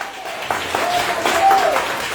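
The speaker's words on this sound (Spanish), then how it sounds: "Y un aplauso al Señor con fuerza" Church congregation clapping during a worship service, a moderate wash of applause that builds slightly, with a voice and tonal sounds over it.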